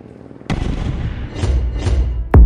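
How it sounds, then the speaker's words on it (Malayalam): Hand grenades exploding over a stadium during a final fight: a sharp blast opens a rolling, rumbling sequence of booming detonations, with further bursts following and a loud, close bang at the end. "സ്റ്റേഡിയത്തിന്റെ മുകളിലെത്തുന്നതും മെഹുൽ ഹാൻഡ് ഗ്രനേഡ് എറിയുവാൻ തുടങ്ങുന്നു."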